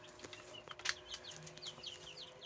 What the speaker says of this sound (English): These are our adorable little quail chicks.